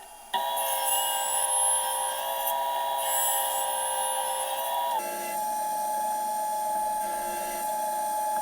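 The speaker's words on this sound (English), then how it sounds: "Just running it on the sander to get it to the proper thickness." A sander thicknessing a sycamore box bottom gives off a steady high whine with a harsh grinding edge, close and continuous. The pitch and texture shift partway through as the board is worked.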